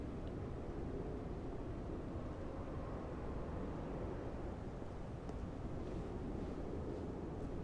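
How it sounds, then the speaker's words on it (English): Wind blows through broken pipes in a game setting, making a constant, low, broadband whoosh. The sound stays even and fairly faint throughout, with a few small gusty flickers near the end. "Why is it windy?"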